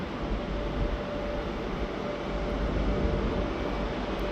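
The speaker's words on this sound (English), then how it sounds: "we have another train coming station starting to become busy" A train at Lisbon Oriente station gives a steady, broad rumble with a faint high whine, continuous and fairly even throughout, with no voices.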